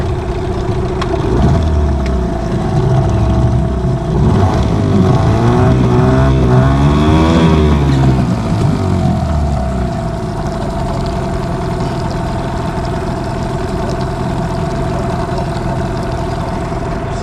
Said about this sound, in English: Seem to get the engine running, but I don't know.